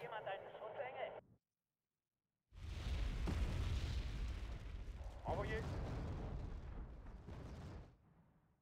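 Artillery fire from long-range rocket launchers in the wargame Wargame: Red Dragon, heard as a sustained, rumbling barrage of loud booms after a brief silence. A voice talks briefly before and during the barrage.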